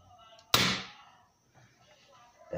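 A Daisy Powerline 880 air gun fired with tape over the muzzle as a makeshift suppressor gives one sharp crack that decays quickly, followed by a faint thump at the end, all quiet and close.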